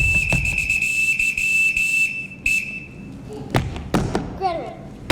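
A shrill whistle is blown in short bursts and then one long held blast to summon children in a staged Sound of Music performance, with footstep thuds and talk following.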